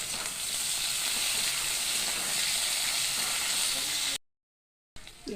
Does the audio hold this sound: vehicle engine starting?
no